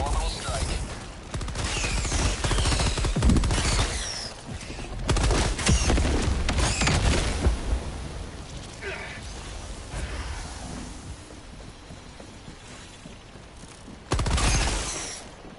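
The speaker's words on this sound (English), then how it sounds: "Firing orbital strike." An orbital strike fires in Helldivers 2 amid heavy booming barrages, shattering blasts and gunfire, loud and sustained over about fifteen seconds with a voice talking over the chaos.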